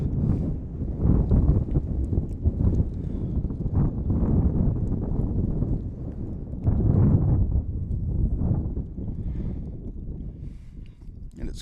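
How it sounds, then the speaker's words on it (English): Gusty wind buffets the microphone in a steady low rumble at a varsity baseball game, rising and falling in strength throughout, with no other clear sounds on top. "And it's quite windy today."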